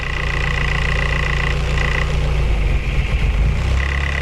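A Toyota 4AGE 20-valve engine idles with a steady low rumble; a light ticking from the VVT cam pulley fades partway through, leaving a smoother hum.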